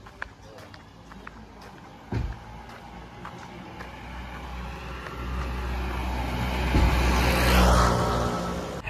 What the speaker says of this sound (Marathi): आता आपण परत गाडी आपली काढून चाललो.